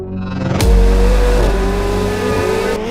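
A McLaren 750S supercar engine fires up with a sharp bark, then settles into a loud, close, deep rumbling idle with a rising tone, no talk over it.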